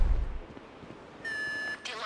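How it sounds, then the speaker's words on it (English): An alarm trips inside a locked building during a heist in GTA 5, sounding as a steady electronic tone that comes in halfway through after low rumbling noise and then cuts off. "The alarm's been tripped."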